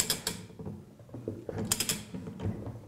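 A wrench tightens the nut on a Flotronic One Nut air-operated double-diaphragm pump to torque, with close, uneven ratcheting clicks and metallic creaks in quick bursts, alone without speech.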